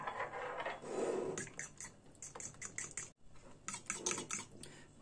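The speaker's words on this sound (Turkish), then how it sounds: "Yumurtamızın akını döküyoruz. 1 kaşık un ve güzelce çırpıyoruz." Egg white being whisked with a spoonful of flour in a bowl, a steady run of quick clinking, scraping strokes with a short pause midway, close and moderately loud, with no talk.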